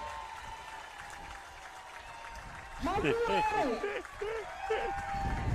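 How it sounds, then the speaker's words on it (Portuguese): A crowd applauds at a Little League tournament final, a diffuse rush of clapping and cheering that continues as loud voices speak over it in the second half. "Aplauso muito mais forte."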